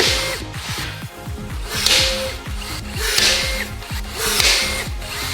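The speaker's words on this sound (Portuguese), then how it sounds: "Agora podemos usar as rebitadeiras para fixá-las no lugar." A rivet gun sets rivets into a car body panel on a wrecked Lamborghini Urus being rebuilt, giving repeated sharp mechanical snaps in a quick, uneven series with short pneumatic hisses between them, close and loud.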